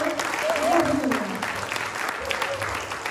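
Audience clapping at a Rabindra nritya and geeti-natya song performance, a steady dense wash of applause lasting throughout, with a voice talking over it.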